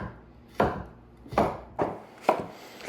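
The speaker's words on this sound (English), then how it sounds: "Then you want to just roughly chop the zucchini." Four crisp knife chops on a cutting board, spaced roughly every three-quarters of a second, as zucchini is roughly chopped at close range with nothing else heard.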